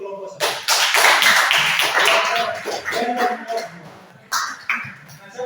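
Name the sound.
classroom applause for group one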